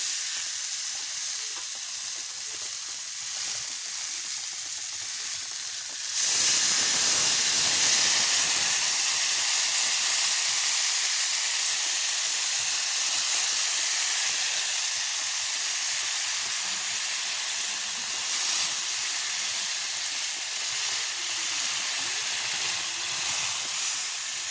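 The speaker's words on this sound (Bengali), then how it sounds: "জল দিয়ে দিলাম।" Water poured into a pan of potato and tomato curry with spices bursts into a loud, sustained steaming hiss and sizzle that swells suddenly and then settles into a steady bubbling rush.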